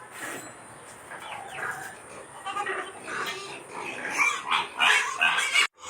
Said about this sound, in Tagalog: So, ang aking mga kambing.